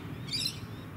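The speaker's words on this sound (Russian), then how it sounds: "Попугай кричит." A parrot gives a single short, high screech partway through, faint against a low, steady background rumble, with no voices.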